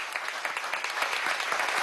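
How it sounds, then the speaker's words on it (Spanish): A crowd at a public address by a Venezuelan prosecutor gives quiet, distant applause, a brief patter of clapping lasting under two seconds. "eso merece un aplauso"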